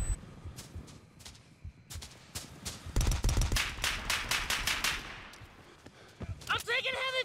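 Video game gunfire crackles in scattered single shots, then a rapid, loud volley of sharp reports in the middle, tapering off before a voice speaks at the end.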